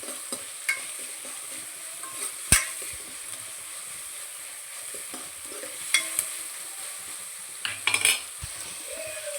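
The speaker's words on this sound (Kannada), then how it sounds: "ಈ ಹಂತಕ್ಕೆ ಫ್ರೈ ಆಗಿದೆ ಆನಿಯನು ಮತ್ತು ಒಣಗಿದ ಮೆಣಸಿನ್ಕಾಯಿ" Onions and dried chillies frying on a low flame, with a faint steady sizzle broken by occasional sharp clinks and scrapes of a spoon stirring in the pan, close by and no voices.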